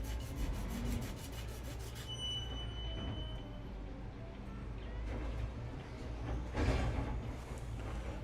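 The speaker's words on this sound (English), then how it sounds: "Just doing a quick sharpen." A wood carving chisel, a skew, is sharpened during Maori carving work, giving a steady, faint rubbing rasp that continues throughout, with a few clicks and knocks near the end.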